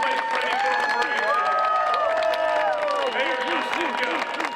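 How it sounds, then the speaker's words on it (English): A parade crowd in Cleveland applauds and cheers for the mayor at the 2022 Saint Patrick's Day Parade, a steady dense roar of clapping with whistles and wavering tones riding over it. "let's just give him a round of applause"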